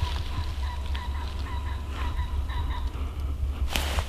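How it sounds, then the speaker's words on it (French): Bird calls identified as a crane ring out in repeated honking cries over a constant low rumble, several calls spaced through the stretch with one sharper, brighter burst near the end. "C'est une grue."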